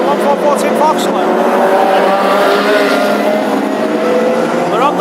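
Classic hot rod race cars on a Birmingham oval during a heat race, engines droning steadily and loud over a continuous roar, with a commentator talking throughout.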